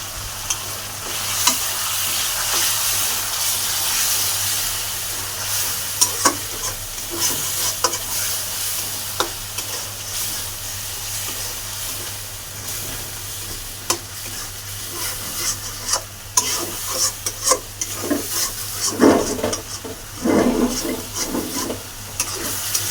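Tomato sizzles in hot oil in a pan while cooking a poa fish curry with potato and pumpkin, with a continuous frying hiss, clinking stirring strokes and scraping that grow busier toward the end.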